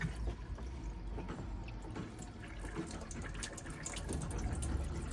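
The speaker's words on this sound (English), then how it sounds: "make sure that you get water coming through nice and clearly on the hot side of the tap" Hot tap running in an AutoTrail Arapaho motorhome, a steady splashing flow of water with small spurts and gurgles, close and fairly loud, with no voices.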